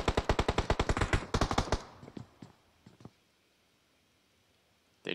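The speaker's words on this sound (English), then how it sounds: "They're definitely paying attention to all that gunfire across the street." A rapid burst of automatic gunfire rattles loudly for about two seconds, followed by scattered distant shots and then near silence.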